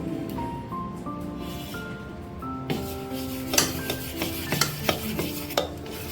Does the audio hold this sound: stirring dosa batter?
yes